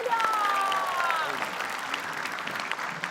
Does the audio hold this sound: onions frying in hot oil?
no